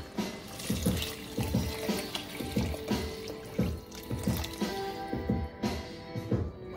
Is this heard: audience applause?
no